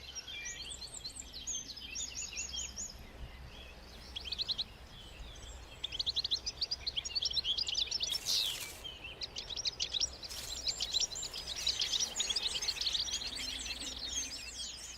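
Goldfinch calls ring out as faint, scattered high chirps and twitters over a quiet outdoor background, coming in clusters throughout with a few louder bursts.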